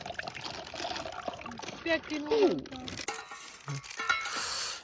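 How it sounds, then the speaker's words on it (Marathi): Water trickles and splashes into a pot in short pours for cooking Maggi noodles, with people talking over it. "आता आम्ही टाकत आहोत पाणी"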